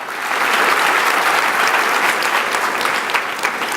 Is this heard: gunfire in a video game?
no